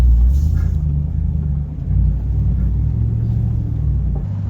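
Off-road vehicle crawling down a rocky section at Hot Springs Off Road Park, a deep steady engine rumble and low drone held throughout, with slight surges in loudness as it works over the rocks.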